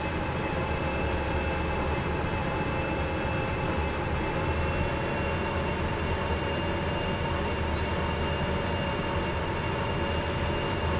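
Train running on rails in the Derail Valley simulation game, a continuous dense rumble and rolling clatter with steady faint tonal whines above, even in loudness throughout and without speech.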